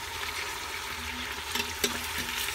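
Chicken sizzles steadily in a pan while it is stirred, with the continuous close frying hiss broken by a few soft scrapes and knocks.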